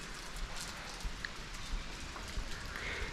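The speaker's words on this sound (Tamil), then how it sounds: "ஸோ சரியான மழை பிடிச்சிருச்சு." Heavy monsoon rain pours steadily during a motorcycle ride toward Hebbe Falls, a constant close patter with scattered louder drops striking surfaces, heard on its own without speech.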